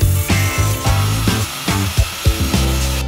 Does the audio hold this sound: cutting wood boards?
yes